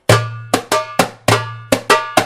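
Sharp drum strikes in a steady rhythm, several landing as doubled flam hits, each ringing out with a bright metallic tone and decaying before the next.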